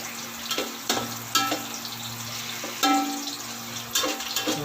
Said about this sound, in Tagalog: gisayin hanggang maluto yung ating sibuyas